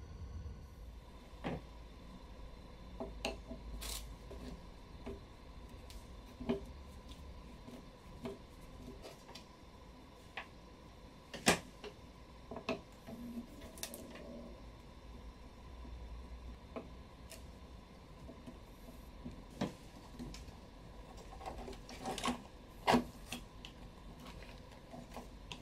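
Modules being taken apart from a Eurorack modular drum machine case, scattered light clicks, ticks and small plastic and metal knocks at irregular intervals over a long stretch, close but quiet, with no talk.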